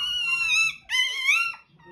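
Hungry German Shorthaired Pointer puppies whimper in two drawn-out, high wavering whines close by, separated by a brief pause.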